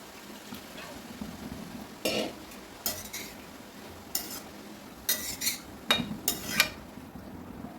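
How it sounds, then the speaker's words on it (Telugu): Soaked chana dal goes into a cooking pan for a cabbage and green chilli coconut curry, making a run of sharp clinks and rattles against the pan over quiet background. "ఇప్పుడు మనం నానబెట్టిన శనగపప్పు వేసుకుందాము"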